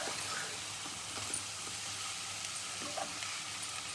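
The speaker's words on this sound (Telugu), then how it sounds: "గోంగూర వేసి బాగా కలుపుకోవాలి." Gongura leaves sizzle in a pan as they are stirred, making a faint, steady frying hiss with occasional light scrapes and no talking.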